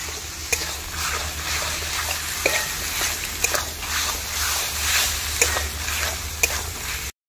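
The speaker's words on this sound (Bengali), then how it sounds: "আমার মাংসটা কষানো হয়ে গিয়েছে" Chicken pieces being sautéed with salt in a pan give a soft, low sizzle under a run of spoon scrapes and knocks against the pan, close by and without speech.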